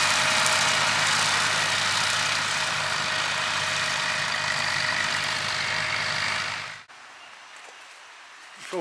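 A Massey Ferguson MF165 tractor's diesel engine runs loudly and steadily at close range, then cuts out abruptly, leaving near silence.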